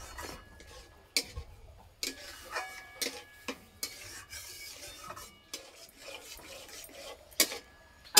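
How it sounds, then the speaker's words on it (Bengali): A spoon scrapes and stirs flattened rice kalakand made with jaggery in a pan, giving repeated rasping strokes with short clacks against the metal. The strokes fall in an uneven rhythm at close range, with no voices. "আর সব সময় এইভাবে নাড়তে হবে, নাহলে তলাতে লেগে যাবে।"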